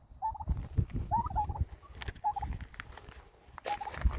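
Turkeys on a backyard farm gobble in several short warbling bursts, fairly close, with rustling and low background noise between calls.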